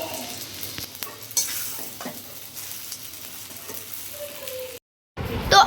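Semai vermicelli scraped and stirred in a hot pan with a steady sizzle and repeated utensil scrapes, close by, until a short cut and a louder burst at the end.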